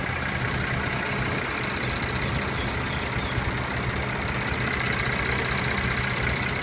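A 2014 Mercedes-Benz C350 4MATIC coupe idles steadily, a constant, dense engine hum heard up close with no variation.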